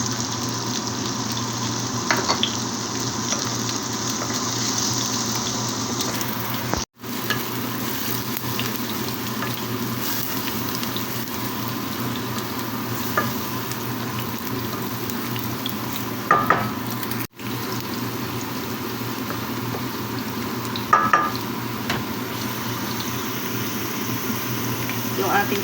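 Tomato paste sizzles and fries steadily in a hot pan while chicken is being cooked. Stirring scrapes sound throughout, with a few louder clanks partway through.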